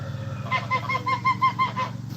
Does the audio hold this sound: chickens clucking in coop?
yes